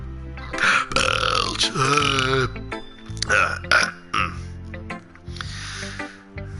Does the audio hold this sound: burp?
yes